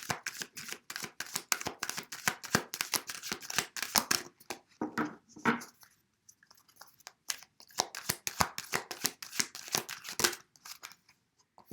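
Tarot cards are shuffled and drawn in quick, crisp bursts of riffling flicks and snaps, a dense run at the start and another after a short lull, close and with no talking.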